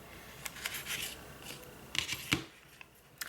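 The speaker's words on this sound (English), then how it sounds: "I'm gonna have to cut it." Scissors snip through washi tape during a craft project decorating a box, a few quick, close cuts in a quiet room with soft rustling around them.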